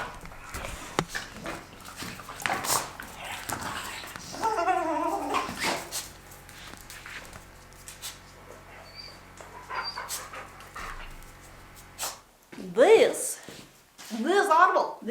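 Puppies whimper and pant close by in a rural off-grid home in winter, with high wavering whines in short bursts among soft breathing, while a person talks quietly in between.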